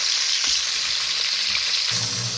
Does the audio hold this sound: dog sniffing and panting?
no